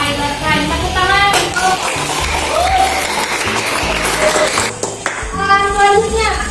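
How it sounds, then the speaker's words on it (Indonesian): A class applauds after a group presentation, with clapping mixed under music and voices in a busy, reverberant room, the sound fairly loud and continuous throughout. "Tepuk tangan."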